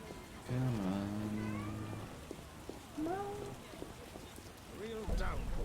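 A cat meows several times in the rain in The Witcher video game, drawn-out plaintive calls close by, over a steady hiss of falling rain.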